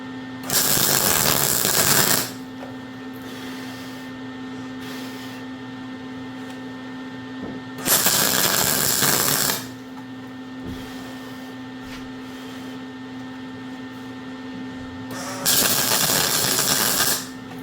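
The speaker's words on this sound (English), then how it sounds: "let's weld these up" Welding a new steel patch panel into a rusted car body: three separate crackling, sizzling bursts of about two seconds each, spaced apart, over a steady electrical hum from the welding machine.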